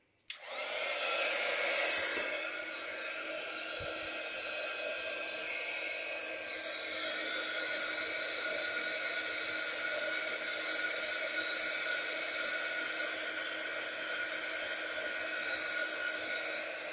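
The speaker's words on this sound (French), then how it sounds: "Et c'est reparti avec le hot gun. On réchauffe." A heat gun blows steadily for heat embossing, a constant loud airy roar starting abruptly and holding without a break, with a whining tone riding over the rush; no one talks.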